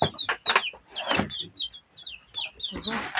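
Chickens at a backyard cage cluck in short bursts, close and moderately loud, while a person speaks intermittently over them.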